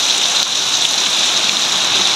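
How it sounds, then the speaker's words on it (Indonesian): Heavy downpour pouring steadily near a house during flooding, a dense, loud, unbroken hiss of rain hitting surfaces with no voices. "Hujannya lebat ini."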